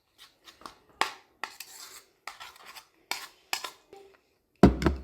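A utensil stirs and scrapes ketchup and vegetable sauce for a vegan pizza in a bowl, giving irregular clicks and scrapes with short pauses between strokes and a louder knock at the end.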